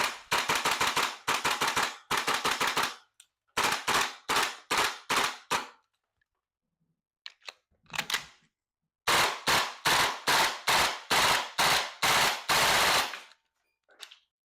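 An APFG SIG MCX Spear LT 11.5-inch airsoft gas blowback rifle fires in three loud, close bursts of sharp, evenly spaced shots at a fairly slow rate, separated by short silences, with a few faint clicks between bursts.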